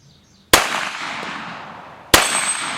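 A Glock 41 pistol in .45 ACP fires two sharp, loud shots about a second and a half apart at steel targets, each crack trailing off in a long ringing echo.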